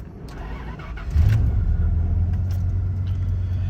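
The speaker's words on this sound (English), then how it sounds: "See how it kind of hesitated just a little bit there at the cold start?" An old Dodge engine, unstarted for about three weeks, cold-starts with a brief hesitant catch, then settles into a steady low rumbling idle, close by.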